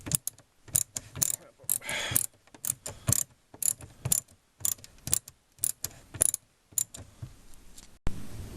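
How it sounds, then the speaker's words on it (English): A ratchet clicks in quick bursts of rapid pawl ticks as it tightens a T-bolt clamp on a Dodge Ram 1500 aftermarket cold air intake. The bursts are close and separated by short pauses, and there is no talking. "just gonna tighten your T-bolt"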